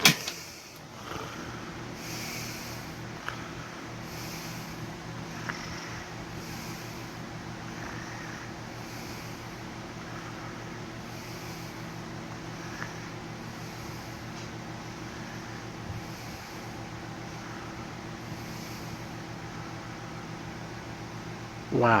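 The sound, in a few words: Tatung LE-9 electric fan motor running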